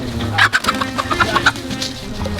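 Chickens clucking nearby in a homestead chicken coop, a run of short, choppy clucks over a low background hum.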